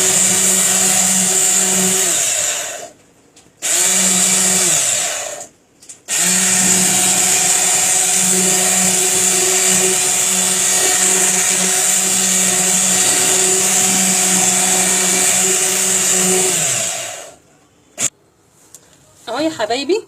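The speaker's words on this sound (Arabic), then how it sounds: "انا هضربه بالهاند بلندر علشان افك التكتلات دي بس" A hand blender whirs loudly and steadily as it mixes a creamy liquid to break up small lumps, running in long bursts with brief pauses between them, and a voice speaks over the motor.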